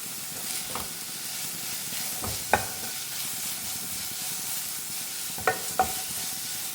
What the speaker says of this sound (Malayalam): ഇനി ഇതൊന്ന് ഇളക്കി നന്നായി യോജിപ്പിച്ച് കൊടുക്കാം.